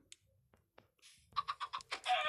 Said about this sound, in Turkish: Bir sürü tavuk oldu.